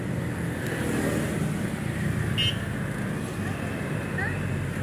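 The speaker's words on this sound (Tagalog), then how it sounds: "dami pa rin sasakyan dito sa Tri-City na ito mga ka-idol" Steady road traffic in Tri-City, a continuous close hum of passing cars and engines with a brief higher whine midway; a voice talks over the traffic noise.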